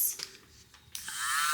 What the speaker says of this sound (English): like a teeny tiny drill